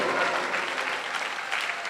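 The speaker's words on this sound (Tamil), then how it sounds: "சின்ன பிள்ளைங்க அதை திரிக்காலப்படுத்தி திசிரப்படுத்தி பண்ணினாங்கிறதுக்கு அவங்களுக்கு ஒரு பெரிய கரகோஷம்" Loud, dense applause from an audience at an anniversary festival, honoring young students' performance, steady clapping filling the whole moment without pause.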